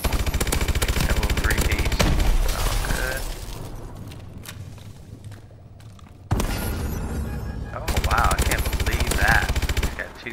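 Rapid automatic gunfire from a Call of Duty: Advanced Warfare match, with loud bursts at the start and again near the end around a quieter gap, while a player talks over it.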